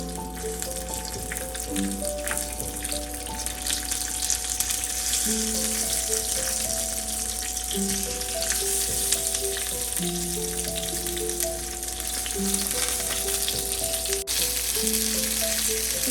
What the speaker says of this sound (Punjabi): ਤੇਲ ਸਾਡਾ ਗਰਮ ਹੋ ਗਿਆ ਜੀ ਹੁਣ ਅਸੀਂ ਵਿੱਚ ਭਿੰਡੀਆਂ ਰੱਖ ਦਵਾਂਗੇ